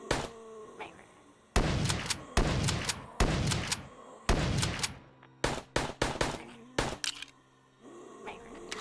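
Gunfire in the VRChat game Sedra: repeated loud, close shots, some fired in quick bursts and some as single cracks, separated by short gaps of quieter low hum and faint game ambience.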